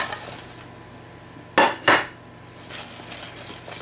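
Chicken wings being tossed and stirred in chipotle sauce with a spoon, two loud clanks of metal against the pot, then softer scraping and clinks, no talking.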